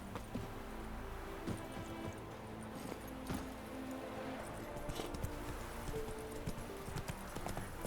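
Roach, the horse in The Witcher 3, canters along, its hooves beating a steady rhythmic clip-clop over a low game soundscape with faint background music, fairly quiet throughout.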